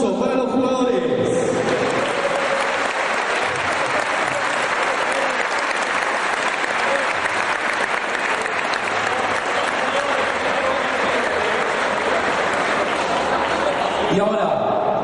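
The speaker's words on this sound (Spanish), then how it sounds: "Fuerte el aplauso para los jugadores." Steady, loud applause from a crowd honours youth football players at an All Boys end-of-season ceremony, continuing unbroken for about fifteen seconds.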